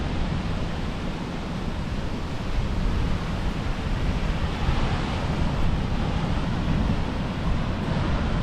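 Steady surf from ocean waves at Ocean Beach, San Diego, a continuous broadband wash with wind buffeting the microphone, fairly loud and even throughout with no voices.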